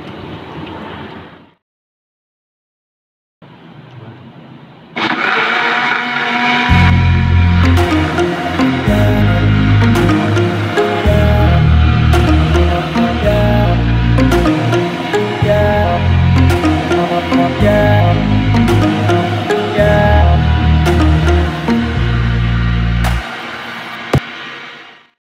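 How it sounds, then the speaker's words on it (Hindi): An electric mixer grinder blends an apricot milkshake. It starts with a brief whir, stops, then runs loud and steady with a deep pulsing hum for about eighteen seconds before shutting off, with no voices. "अब इसको हम ग्राइंड करने के लिए लेके चलते हैं।"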